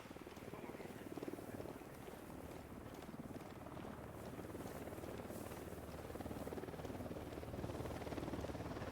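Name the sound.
helicopter in video game Ghost Recon Wildlands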